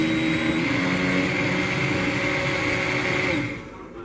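A stick blender runs steadily in homemade liquid soap for shower gel, a close, continuous motor whir that cuts off near the end.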